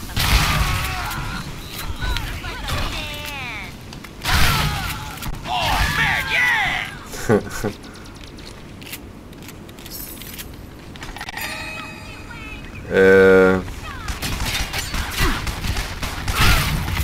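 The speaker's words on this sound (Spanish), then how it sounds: "Todo explota." Shadow Warrior 2 explosions: scattered booms and crackling blasts with metallic clattering, among bursts of gunfire, with a loud buzzing stretch near the end and no talk.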